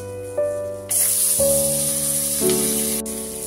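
Chopped onion hitting hot oil for a Bengali chicken pish pash, a loud steady sizzle that bursts in and holds, with a low hum and tonal background noise running underneath.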